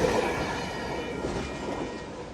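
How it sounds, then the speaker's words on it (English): An old train carrying equipment dating to 1916 rolls past, giving a steady, fairly loud rumble of rail wheels and carriages with faint metallic ringing. "The equipment on this train dates back to 1916."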